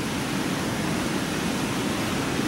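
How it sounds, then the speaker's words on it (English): Waterfall on a river with layered rock walls, a dense, constant roaring rush of falling water, loud and unbroken from start to finish. "You can see downriver, below the waterfalls here."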